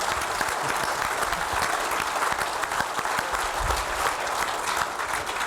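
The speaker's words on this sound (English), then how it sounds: "Let's give him a round of applause for a job well done." An indoor audience at a celebration event gives a sustained round of applause, dense and steady clapping throughout, with faint crowd murmur.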